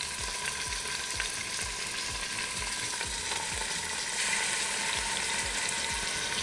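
Pieces of rump roast browning in hot olive oil, a loud steady sizzle close up with a faint regular low thumping under it, no talking.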